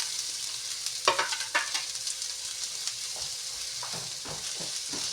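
Deseeded jackfruit is tossed into a pan of frying onions for ginataang langka with shrimp. A continuous close sizzle is broken by sharp stirring scrapes early on and softer ones later, with no voices.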